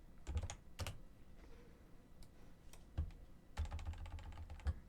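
Keys on a computer keyboard are typed in bursts into a Notepad document, with clustered clicks separated by short pauses, fairly close and moderately loud, with no voices.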